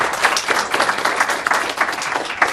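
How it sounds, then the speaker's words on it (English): An audience at a press club presentation in Brussels gives a round of applause, dense steady clapping from many hands close and continuous, no speech over it. "I would like also ask the audience to give good round of applause to our speakers"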